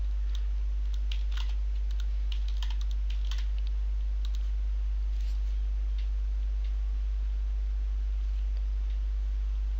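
Fast, light clicking of keys on a computer keyboard as a password is entered, an irregular run of taps over a loud steady low hum.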